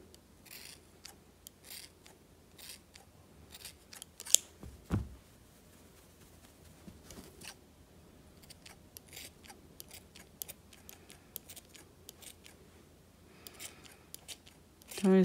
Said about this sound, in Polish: bierzemy sobie nożyczki i go troszeczkę tutaj